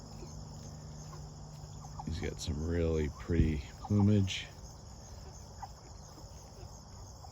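Meat chickens, white Cornish and white Plymouth Rock birds, give a few clucks and squawks over a steady chorus of insects outdoors. Someone talks over them.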